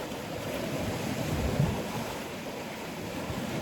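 Steady ocean surf washing onto a shore, a continuous broadband rush with a slight swell midway, fairly quiet and even, with wind in the background and no voices.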